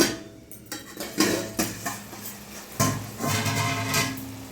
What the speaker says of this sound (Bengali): 10 মিনিট হয়ে গেছে, ঢাকাটা খুলে নেব।